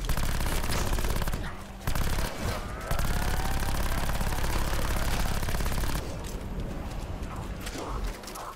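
Rapid gunfire from the Essex Model 07 and Escargot weapons in Black Ops 4 Zombies, heard as dense, loud, continuous bursts with a few brief pauses and layered game effects, and no talking.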